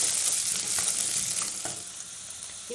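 Chopped onions and curry leaves sauté in hot oil for a plantain stir-fry, a steady loud sizzle filling the whole stretch with a few soft stirring scrapes, close and with no voices.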